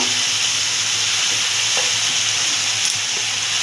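Grated potato is stirred into a spice mix frying in oil for potato and egg fritters, giving a steady loud sizzle with occasional light scrapes of a spatula and no voices.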